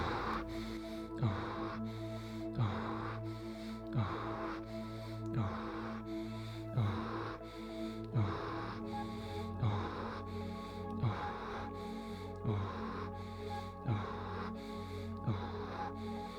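Deep rhythmic guided breathing, a regular cycle of forceful inhales and exhales repeating about every second and a half over steady background music.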